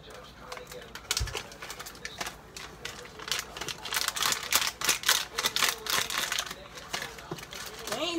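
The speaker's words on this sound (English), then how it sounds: "scissors can't fight through plastic" Scissors snip and crunch repeatedly through plastic packaging indoors while baking cookies, a close run of sharp crinkling cuts with people talking over it.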